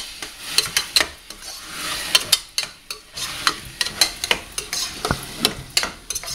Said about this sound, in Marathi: आता आपण हे वांग फोडणीमध्ये चांगलं